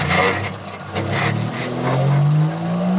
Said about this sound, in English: That hum you're hearing is the motor